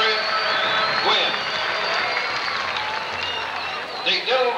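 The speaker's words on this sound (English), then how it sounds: "Let's give Mrs. Gwynn a nice round of applause, please." Audience applause fills a school band show hall in Jefferson County, steady and sustained throughout, with a few brief voices or whoops cutting through near the end.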